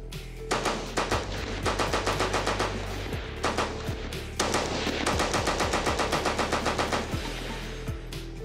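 A World War One machine gun fires in two long sustained bursts of rapid, evenly spaced, loud, close shots, broken by a brief pause.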